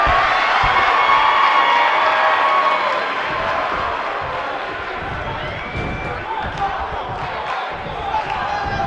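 Wrestling arena crowd in the WWE 2K19 video game, a loud, steady roar of cheering and murmur that fills the whole space, with scattered thumps underneath.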